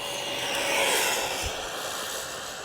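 An RTR RC speed-run car running on a stock 2-cell battery at full throttle gives a steady high-pitched motor whine, fairly loud as it passes and then easing slightly away, with no voices.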